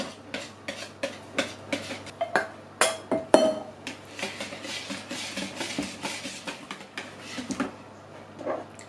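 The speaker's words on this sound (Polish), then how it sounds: "I delikatnie mieszamy." A spoon or whisk taps and clinks against a bowl in a steady rhythm as soft cheese is folded gently into an egg mixture for a homemade cheesecake, with light scraping between the knocks.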